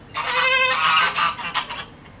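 A goose honks loudly and close by in a run of harsh, nasal calls that fade into a few shorter honks, with no voices over it.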